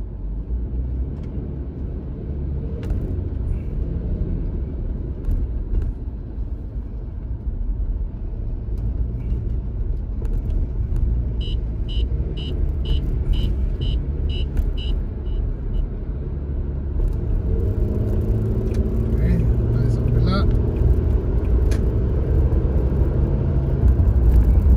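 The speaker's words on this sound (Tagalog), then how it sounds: "Medyo traffic lang ng konti." Road traffic heard from inside a moving car approaching a stoplight, a steady low engine and road rumble with passing vehicles, a faint chiming pattern midway, and heavier rumble building toward the end.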